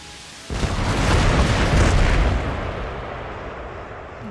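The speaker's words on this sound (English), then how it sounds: "Here comes the rockets." A rocket volley in the Empire: Total War battle game erupts suddenly into a loud, sustained rushing roar of overlapping blasts that slowly fades while still rumbling.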